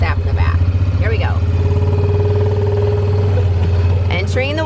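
Side-by-side utility vehicle with its engine running as it drives onto a farm, carrying sap in the back: a steady, loud mid-pitched motor drone throughout, with someone talking over it.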